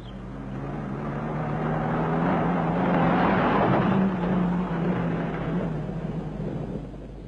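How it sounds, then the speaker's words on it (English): An MG 1100 car driving over a rough tank testing track: a continuous low engine rumble and road noise swell gradually to a peak midway, then ease slightly, steady and fairly loud with no voices. "Let's see the 1100 suspension in action on a real rough ride tank testing track."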